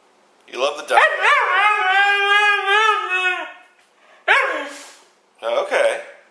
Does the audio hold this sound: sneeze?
no